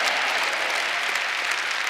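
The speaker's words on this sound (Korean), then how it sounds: "감사하시는 분은 찬송의 박수를 치십시오" A church congregation claps in praise at a large Korean revival service. The applause is loud, dense and sustained, coming from many hands at once throughout.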